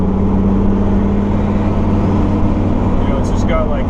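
Turbocharged 460 engine car cruising on barely any throttle in traffic: a steady low engine drone and road rumble inside the cabin, even and continuous, with a brief faint whistle near the end.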